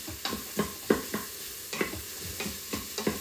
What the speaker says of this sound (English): we're just mixing in that garlic, stirring it well